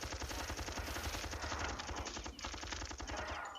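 Dense, continuous rapid gunfire fills a shooting gallery section of a video game, with a steady rattling rhythm that stays loud and unbroken for the whole stretch.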